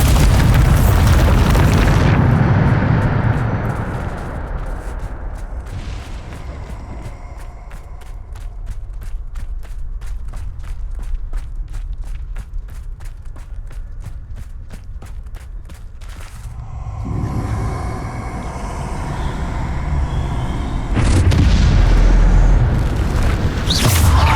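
Bombarda spell blasts in the video game Hogwarts Legacy: heavy booming explosions at the start and again near the end, with quieter rhythmic rumbling and footsteps between them.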